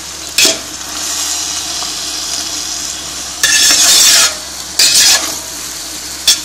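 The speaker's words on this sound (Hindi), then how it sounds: "इसको आपने थोड़ा सा हिला लेना, बस एक दफ़ा ही चम्मच हिला लें।" A spoon stirring rice for zarda in a hot pot, with a steady sizzle throughout and several louder scraping bursts as the spoon drags through the grains.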